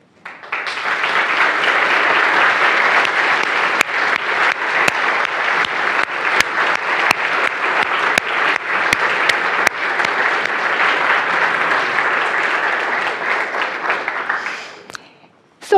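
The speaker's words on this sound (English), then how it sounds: "get up and get our applause for their award" A large conference audience at a programming-languages event applauds award-winning paper authors with a roaring, sustained ovation of many hands, holding steady for about fifteen seconds before tapering off.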